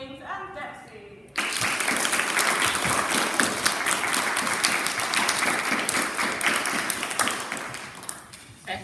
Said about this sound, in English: a big round of applause for our 4 outstanding achievements